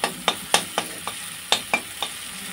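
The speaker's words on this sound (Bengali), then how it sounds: "এগুলো ভালোভাবে ভেজে নেব" Chicken chow mein ingredients frying with a little turmeric in a pan: a steady sizzle under a series of sharp, close scrapes and taps from stirring, about eight in quick irregular succession, with no talk.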